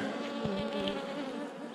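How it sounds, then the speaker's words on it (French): A steady, close buzzing of bees that drones on without a break, with a faint extra flutter near the end. "c'est des abeilles qui sont dedans"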